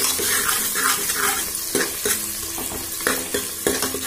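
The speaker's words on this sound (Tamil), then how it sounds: "நல்லா இப்போ நம்ம வதக்கல வெங்காயத்தை." Chopped onions sautéing in a pan for a Sunday chicken curry, a steady close sizzle broken by repeated scraping stirs of a utensil against the pan, with no talk.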